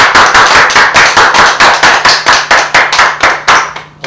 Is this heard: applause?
yes